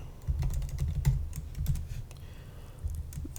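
Rapid clicking keystrokes on a computer keyboard as code is typed, close and fairly quiet, in irregular bursts with short pauses.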